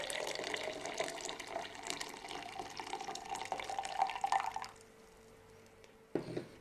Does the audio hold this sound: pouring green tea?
yes